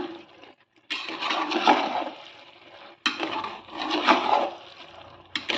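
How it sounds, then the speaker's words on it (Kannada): Cooked rice is stirred together with bisi bele bath ingredients in a pot, making two long wet squelching, sloshing passes, close and steady, with no speech. "ಇದನ್ನು ಚೆನ್ನಾಗಿ ಮಿಕ್ಸ್ ಮಾಡ್ಕೊಳ್ಳೋಣ"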